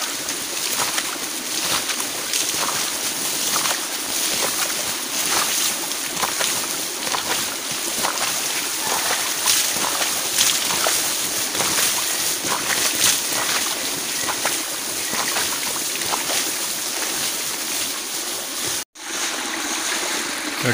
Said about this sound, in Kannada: ಎಲ್ಲ ಮನೆಯ ಸದಸ್ಯರು ಸೇರಿ ನಾವು ನೀರನ್ನು ತೋಟಕ್ಕೆ ನೋಡಿ ಅಡಿಕೆ ಮರದ ಬುಡಕ್ಕೆ ಎರಚುವಂಥದ್ದು